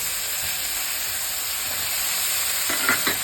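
Diced potatoes go into a pan already frying beans and peas for Bangalore-style bisibele bath, giving a loud, steady close sizzle with a few stirring scrapes near the end and no talk.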